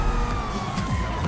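A police siren in the GTA 5 Online video game wails through a loud, busy mix of engine and game noise over a brief stretch, with no speech.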